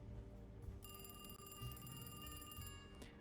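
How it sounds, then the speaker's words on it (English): A telephone rings in the video game Alone in the Dark (2024), a faint electronic bell trill sounding over a low background hum. "Oh, I'm gonna answer the phone,"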